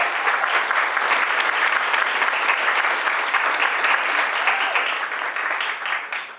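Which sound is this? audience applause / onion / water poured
audience applause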